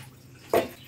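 Poppy seed water poured into a pan while cooking bitter gourd with poppy seed paste, a short splashing burst of liquid close by, lasting about half a second over a quiet kitchen background.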